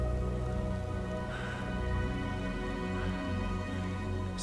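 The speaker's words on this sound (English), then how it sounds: "just started raining." Rain falling on a hiking trail at Great River Bluffs State Park in Minnesota, a steady, even patter of drops that holds throughout with no voices.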